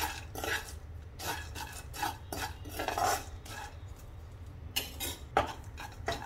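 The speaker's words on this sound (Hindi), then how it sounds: "इसके साथ ही खसखस इसको भी ड्राई रोस्ट कर लेते हैं" Poppy seeds dry roasting in a pan for panjiri, stirred with a metal spoon in a run of scraping, rasping strokes with a few clinks, close and with no talk.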